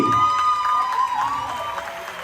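A church audience applauds and cheers as a guest named Carly arrives, a dense wash of clapping with some shouts over sustained tonal music, loud and continuous for a couple of seconds.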